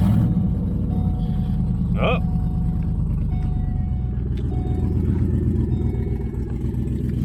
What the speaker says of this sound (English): Sounds like just a leaky exhaust manifold.